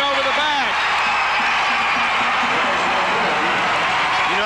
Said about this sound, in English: The crowd reaction came first and then the whistle.